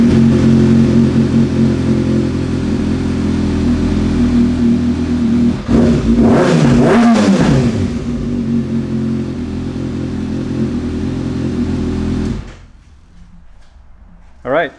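A 2019 Kawasaki ZX6R 636 sport motorcycle engine runs loud and close, with a sharp rising-and-falling rev burst midway, then cuts off abruptly near the end, leaving quiet room noise.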